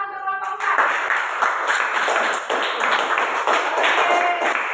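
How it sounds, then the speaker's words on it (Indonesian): A classroom of students claps together for a group that has just presented, a dense, lively burst of clapping that holds steady for several seconds, close and loud, with a teacher's voice mixed in. "Kita kasih tepuk tangan untuk kelompok 4."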